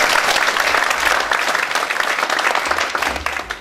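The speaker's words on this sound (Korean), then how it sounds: "우리 장관님 직무대행 이영찬 차관님께 한번 박수 한번 보내주시기 바랍니다." Steady applause from an audience at a Korean policy forum on the National Pension fund management headquarters and Jeollabuk-do finance, greeting a vice minister; dense, sustained clapping throughout with no talk.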